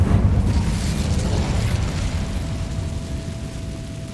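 Incendio fire spell cast in the game Hogwarts Legacy, a loud, dense whooshing roar of flame with a heavy low boom that holds steady for several seconds before easing slightly, with no talking over it.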